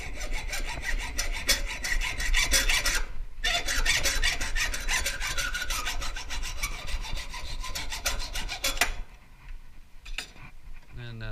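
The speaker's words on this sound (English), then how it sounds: "Then you basically take the hacksaw. You can cut that 1 inch off." A hacksaw cuts through a metal camping chair tube in rapid, rhythmic rasping strokes, loud and close, pausing briefly once before stopping, followed by quieter handling noise.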